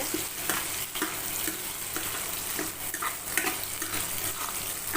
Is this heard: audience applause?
no